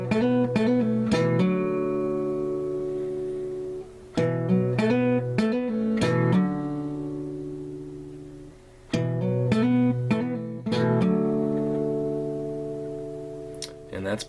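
An acoustic guitar plays a short repeating hammer-on riff, quick picked notes followed by ringing chords, heard up close in three phrases.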